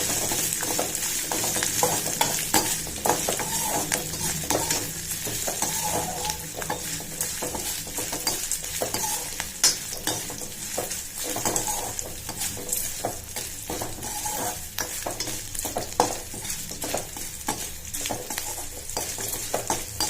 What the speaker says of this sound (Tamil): கீரி விட்டு அப்புறம் காஞ்ச மிளகாய் கொஞ்சோண்டு வதக்கிடுங்க.